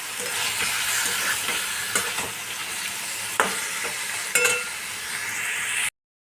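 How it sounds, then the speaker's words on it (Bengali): Curd paneer curry sizzles steadily in a pan as it is sautéed, with occasional scrapes and clinks of a spoon stirring it. The sizzle cuts off abruptly at the end. "2 মিনিট মতো আমি এটাকে কষিয়ে নেব।"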